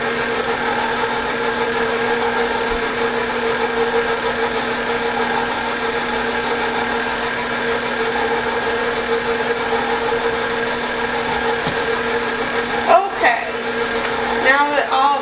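Electric mixer running steadily at low speed, blending butter, milk and sugar for a roll dough, a continuous even whir held close up for the whole stretch, with a few brief knocks near the end.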